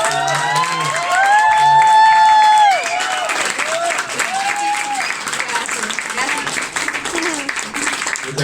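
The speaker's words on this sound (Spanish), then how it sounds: "rompamos acá con el aplauso" Applause and cheering from the audience at a poetry gathering, with voices talking and calling out over it at first, then the clapping continues as a steady, lively patter.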